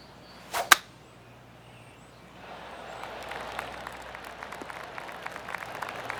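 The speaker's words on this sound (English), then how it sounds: "I can hear the golf claps around the course." Polite golf applause from a distant crowd in PGA Tour 2K25 rises and continues softly, after a sharp whooshing swish near the start.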